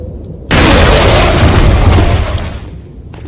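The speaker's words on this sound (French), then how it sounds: "Tu prends la grenade, tu la lances." A grenade blast in Resident Evil 4 erupts suddenly as a loud, broadband boom, followed by a sustained roar of debris that slowly fades over a few seconds.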